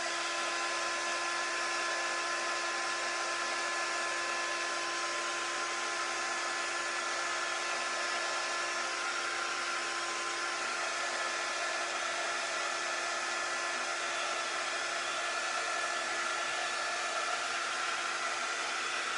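A hair dryer runs steadily throughout, blowing on a freshly painted DIY craft piece between coats of wax; a constant, fairly loud whirring hiss with a faint tonal whine and no speech.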